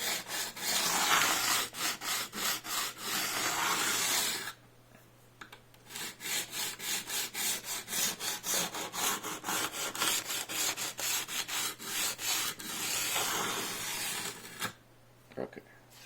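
A file works the teeth of a bow-saw blade clamped in a vise, giving rhythmic rasping strokes close up, in quick bursts with a short pause between them.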